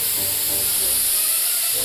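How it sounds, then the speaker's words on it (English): A steady, close spray hiss fills the clip from start to finish, a perfume spray being released continuously. "Oh, that one looks good! I'll just give myself a spray."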